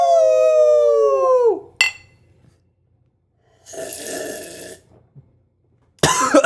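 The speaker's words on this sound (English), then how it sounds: "I coughed an IPA." A man coughs while sipping IPA beer, giving a sharp short cough after a long slurping, squealing sip, then a rough raspy burst and a final loud cough close to the microphone.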